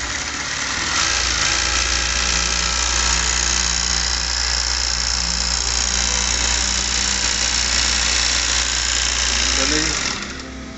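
Juki LZ 271 industrial zigzag sewing machine running steadily after being greased, a continuous close mechanical whir and hum lasting about ten seconds before winding down, with someone talking over it.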